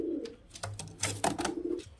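Giribaz pigeons coo close by in repeated low, throaty rolls, with one long coo at the start and another near the end, broken up by flutters and brief rustling knocks.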